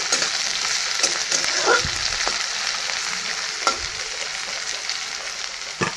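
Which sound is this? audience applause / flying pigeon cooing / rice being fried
rice being fried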